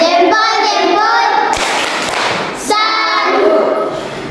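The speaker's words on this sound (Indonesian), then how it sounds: "kita berikan tepuk salut" A classroom of pupils giving a 'tepuk salut' clapping salute: a short burst of hand claps and thuds sits between stretches of children's chanting voices, all fairly loud and close.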